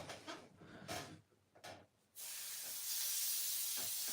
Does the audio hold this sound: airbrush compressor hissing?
yes